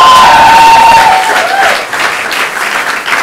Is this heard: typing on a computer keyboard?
no